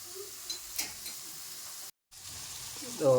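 Bottle gourd and tomato pieces cook in a pan with a quiet, steady sizzle and occasional soft stirring clinks, briefly cut off for a moment before the frying noise resumes.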